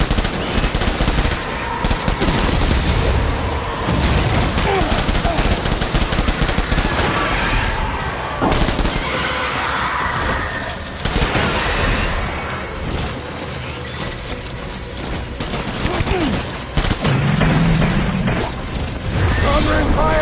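Heavy World War II gunfire from the Death Stranding video game rattles in dense machine-gun bursts and fusillades with booming blasts, loud and nearly continuous, under shouted voices.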